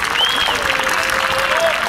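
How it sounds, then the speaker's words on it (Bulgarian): Applause breaks out for the finalist teams at a 2005 final, a brief continuous crowd clatter with a thin whistle-like tone sliding over it. "Аплодисменти за отборите финалисти."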